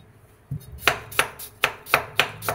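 A kitchen knife chops through jicama root on a cutting board in six sharp, evenly spaced strokes. The chopping is close and fairly loud, with no talking.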